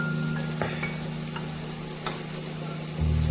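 Onions fry with turmeric in a pan, giving a low, steady sizzle close by, with a few faint clicks of a spoon over it and no voices.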